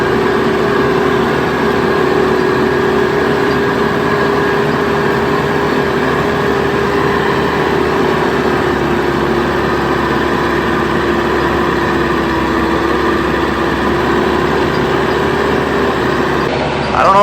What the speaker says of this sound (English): the old TYM tractor was kind of grunting and groaning, tried to spin the tires a little bit coming up that hill